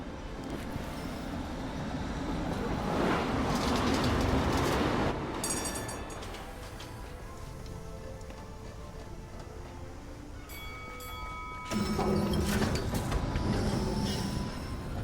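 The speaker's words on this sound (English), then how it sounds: "But here's our tram." A tram arriving at the Bridge of Mists in the adventure game Syberia: The World Before, with a rumbling rail roll that swells and fades, then squealing, ringing wheel tones and a final surge of rolling noise.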